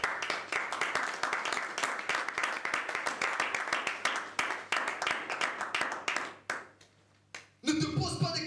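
A church congregation claps in a steady, rhythmic beat under an organ drone, loud and sustained, then the clapping fades out and voices return at the end.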